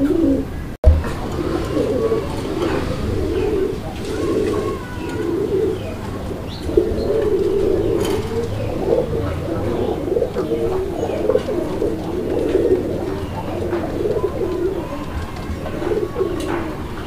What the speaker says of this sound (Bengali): আপনারা ডাকডুকগুলো দেখতে পাচ্ছেন, মাশাআল্লাহ অনেক সুন্দর ডাকে